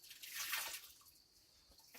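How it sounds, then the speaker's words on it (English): Water splashing and dripping during hand-washing of dishes, a soft swell of sloshing early on that fades into quieter trickles and drips, close by with no talking. "It's just like you see me guys washing the dishes"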